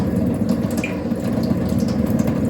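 Water gushes steadily from a motor pump, a loud, continuous splashing flow heard up close with no speech.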